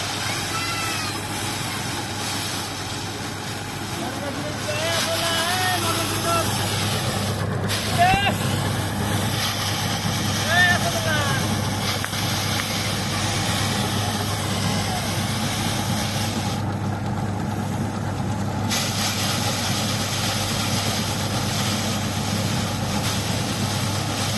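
A small motor-driven paddy threshing machine drones steadily through the whole span, loud and close, with a constant low mechanical hum during a rice threshing session; a voice is heard speaking over it.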